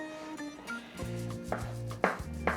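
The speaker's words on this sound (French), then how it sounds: "je vais la hacher comme ça grossièrement" A knife coarsely chops tomato pulp on a cutting board, giving a series of close, irregular thuds and scraping strokes over a low steady hum.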